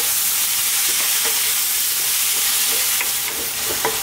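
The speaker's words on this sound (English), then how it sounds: "Now for like 3 or 4 minutes, let's just throw the spinach around in our butter," Spinach sautéing in a pan of butter, onion and garlic makes a loud, steady sizzle and frying hiss, with faint stirring scrapes throughout and no speech.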